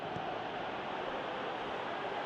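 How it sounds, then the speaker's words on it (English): A stadium crowd in the PES 2020 football video game, during a Champions League match with Manchester City, roars in a steady broadband wash, rising as supporters urge a player to shoot. "Crowd calling for him to shoot."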